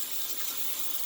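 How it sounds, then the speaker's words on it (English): Steady rush of running water as a paint brush is rinsed out after conditioning, a soft continuous gush with no talking. "So now I'm just going to rinse the brush out."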